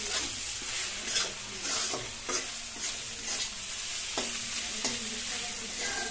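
Spices fry in a wok for an egg and brinjal curry, with a continuous hiss of hot oil broken by repeated scraping stir strokes of a spatula against the pan, close and clear with no talking.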